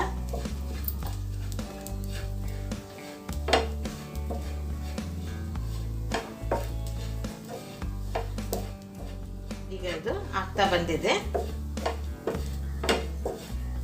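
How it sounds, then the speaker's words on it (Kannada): Grated coconut roasting in a little oil in a pan: a metal spoon scrapes, clinks and stirs against the pan in a steady, close rhythm for the whole stretch. "ಈ ಥರ ಕೆಂಪಗಾಗೋ ತನಕ ಹುರಿಬೇಕಾಗುತ್ತೆ ನಾವು ಇದು ಸ್ವಲ್ಪ ಎಣ್ಣೆ ಎಣ್ಣೆ ಬಿಟ್ಕೋಬೇಕು ಈ ಕೊಬ್ಬರಿದೆಲ್ಲ"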